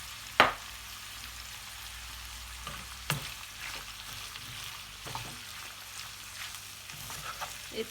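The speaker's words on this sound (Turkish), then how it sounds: "Etleri kavurdum" Meat sautéing in a pan on a stovetop, a steady low sizzle with occasional sharp clinks and scrapes of a utensil stirring, close up with no talking.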